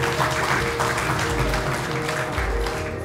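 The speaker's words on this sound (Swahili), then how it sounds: "Mpeni makofi makubwa." Big round of applause from a crowd at a school ceremony where renovated dormitories are handed over to the education ministry, steady and dense throughout with a faint voice underneath.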